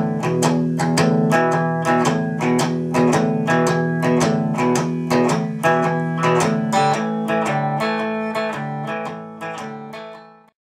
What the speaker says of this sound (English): If you were to do it down up, which a lot of people find very natural to do, it'll sound something like this.